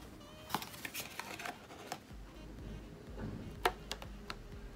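A package of protein donuts is torn open: faint crinkly plastic rustling broken by a few sharp ticks and snaps, close by and scattered irregularly across a few seconds.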